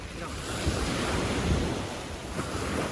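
Ocean surf washes onto Jomtien beach in Thailand, a continuous close roar of breaking waves mixed with gusty wind buffeting the microphone.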